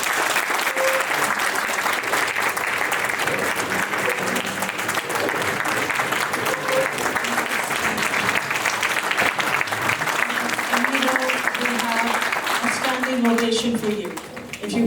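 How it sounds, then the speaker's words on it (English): A large audience gives sustained applause after a keynote speech, a dense, even wash of clapping lasting the whole stretch, with a few voices faintly audible underneath near the end. "A big round of applause."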